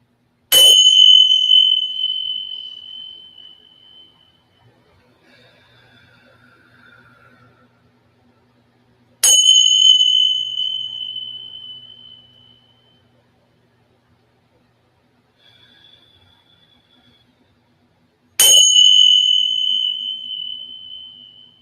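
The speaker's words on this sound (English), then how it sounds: "if you have headphones on, be careful because sometimes the chimes are a little loud" Three loud chime strikes ring out at roughly nine-second intervals, each a bright metallic attack that decays slowly over several seconds, with faint low background hum between strikes.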